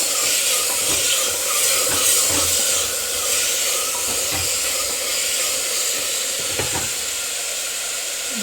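Chopped tomatoes fry in a hot pan for mutton sukka, giving a steady, close sizzle and hiss throughout with a few faint stirring clinks, no talking.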